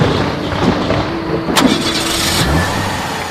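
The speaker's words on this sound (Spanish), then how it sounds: "encendió el auto" A car engine cranks and catches in a radio mystery drama, a broadband rumble with a sharp burst at the start, then a low idle settling in, loud and close with no voices.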